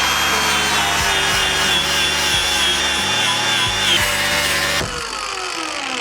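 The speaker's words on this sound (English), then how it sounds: "I'm just gonna use a little Scotch-Brite wheel." A Scotch-Brite wheel buffs steel spears forged from wrenches, a loud continuous whirring grind with rhythmic thumps as the metal is pressed and shifted against it, easing slightly near the end.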